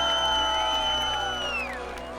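An outdoor crowd at a village fire show festival in Zelenogradsky cheers and whoops, with sustained rising and falling shouts, steady and loud before tapering slightly.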